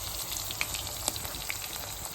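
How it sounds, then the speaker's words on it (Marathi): Prawns (kolambi) frying in a pan, a steady close sizzle with a few small pops and crackles throughout, no talking. "मस्त झालंय तयार कोलंबी फ्राय"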